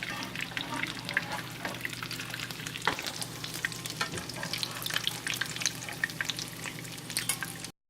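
Chicken potato cutlets fry steadily in a pan of hot oil, a dense, continuous sizzle and crackle running throughout with a few soft scrapes and thuds as they are moved.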